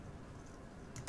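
Quiet keystrokes on a computer keyboard while entering text into a search field, a few soft clicks in a brief run.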